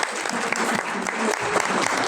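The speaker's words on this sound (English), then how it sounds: "We clap until she gets here." Steady, dense applause from an audience welcoming a speaker at a women's political leadership event, sustained and fairly loud throughout with faint crowd voices underneath.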